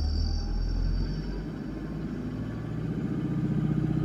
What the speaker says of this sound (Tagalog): Naririnig nyo yung makina.